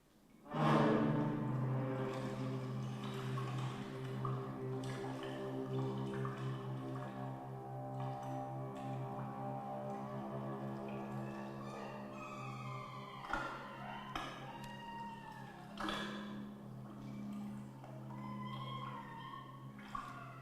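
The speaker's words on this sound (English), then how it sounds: "Listen to an excerpt from Tan Dun's Water Concerto" Tan Dun's Water Concerto performed live: sustained orchestral tones hold beneath splashing, dripping and sloshing water played as percussion, with bright watery gestures growing more prominent in the latter half.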